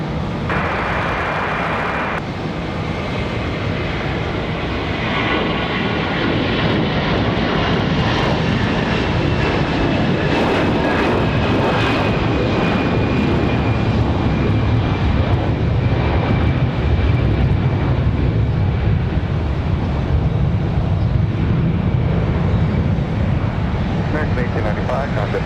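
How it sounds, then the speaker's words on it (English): American Airlines Airbus A321 jet rolling for takeoff at Raleigh-Durham International on a windy day, a loud sustained engine roar building and holding steady, with someone talking over it. "American, the A321 back to Charlotte, already rolling."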